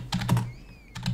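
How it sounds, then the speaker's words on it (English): Fingers type on a computer keyboard up close, with two short bursts of quick clicking keystrokes separated by a brief pause and no talk. "I'm only just typing in kind of gibberish keywords now for simplicity's sake"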